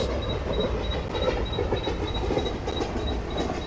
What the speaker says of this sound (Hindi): गाइस ये वाली ट्रैक साउंड काफ़ी प्यारी लगती